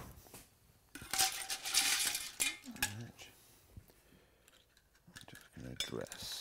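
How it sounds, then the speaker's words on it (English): A spoon mixes cockles in a bowl, clinking and scraping against the shells and the dish in irregular bursts, close by, with a few quiet sounds of movement between them. "just going to mix up our cockles in here"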